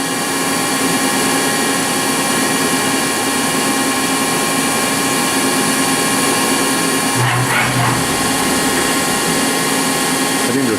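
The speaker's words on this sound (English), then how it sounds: "they're just drilling 3 different holes" A loud, continuous machine whine and hum from a close Doosan DMV3016LD CNC machining center drilling holes holds steady throughout, with a brief low thump near the end.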